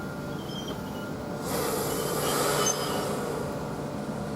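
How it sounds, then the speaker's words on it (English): A Southeastern Class 395 high-speed train departs Rochester station, a steady rumble that swells into louder rushing and rolling noise midway, with a faint high wheel squeal. "Now this train is now departing, which is 11:27 from London St Pancras International towards Thameslink"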